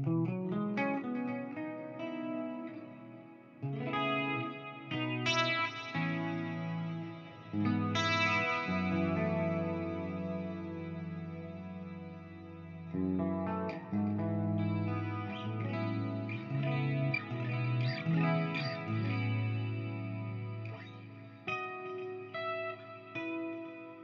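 Electric guitar played through an EVH 5153 amplifier with a slightly dirty, chorus-tinged tone, sustained chords and melodic notes ringing with reverb, steady and alone without talk.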